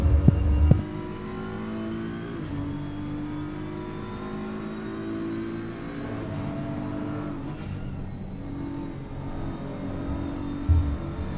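BMW race cars circulating at Kyalami in a sim racing game, engines droning steadily with harmonic whine through the turns, a close pack sustained for the whole stretch with a brief thump at the start.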